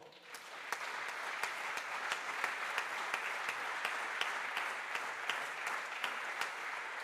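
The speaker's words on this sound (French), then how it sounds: "on va les applaudir très fort" An audience at an awards event claps steadily throughout, a broad even wash of hand clapping with occasional sharper individual claps, heard from a distance and somewhat faint.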